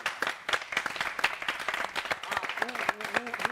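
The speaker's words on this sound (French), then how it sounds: "on applaudit pour elle" A studio audience on a Gabonese TV show applauds a guest, a busy patter of many claps at moderate level with voices talking and calling out over it toward the end.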